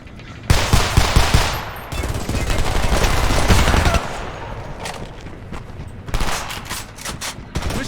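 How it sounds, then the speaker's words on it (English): Loud machine gun fire from the video game Homefront comes in sustained heavy bursts, drops back briefly, then returns as sharp, rapid volleys toward the end. "Machine gun, second floor window!"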